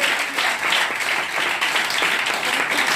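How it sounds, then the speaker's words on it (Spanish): A church congregation at an evangelical service claps loudly and continuously, a thick wash of many hands in a resonant room. "Un aplauso fuerte al Señor."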